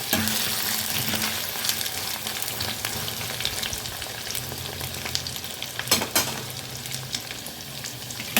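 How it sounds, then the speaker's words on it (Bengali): Potatoes with ginger and green chili sizzling steadily in a hot pan, with occasional scrapes and clicks as they are stirred; no voices. "আদা আর কাঁচা লঙ্কাটাকেও এই আলুর সাথেই একটু ভেজে নেব"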